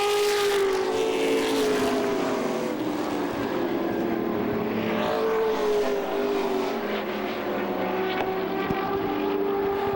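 Race cars in a heat race at Lee USA Speedway give off a continuous engine drone. One steady note slowly rises and falls as the cars circle, loud and unbroken throughout.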